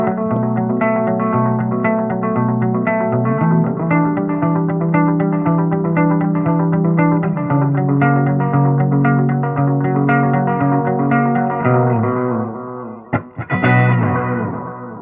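Heavily distorted electric guitar chords ring out with echoing delay trails, loud and sustained, ending in a few sharp strums near the close.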